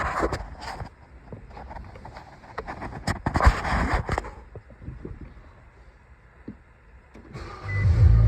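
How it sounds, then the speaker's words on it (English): A 2021 Nissan Sentra starts up at the very end, its engine catching with a low rumble after several seconds of clicks and interior handling noises inside the car. "we go inside, start it up, and then go through the gears"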